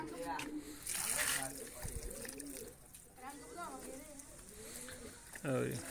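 Pigeons being bathed with water, with splashing and pouring water close by, soft cooing and wing flutters, under frequent talk from nearby voices.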